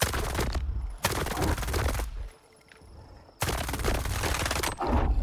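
Automatic rifle fire from the video game STALKER 2, loud rapid bursts of shots with a short lull in the middle before firing resumes, close and dense.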